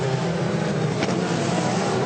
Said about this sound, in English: So as the cars head off on their formation lap